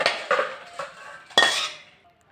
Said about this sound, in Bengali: তরকারিটা আমার হয়ে গেছে, আমি এবার নামিয়ে নেব